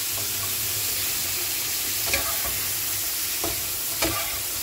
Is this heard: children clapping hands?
no